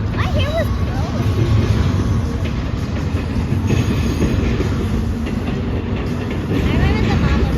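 A long train rolls past close by in a loud, continuous roar, with rhythmic clatter and thin wheel squeals rising above it, and voices murmur underneath.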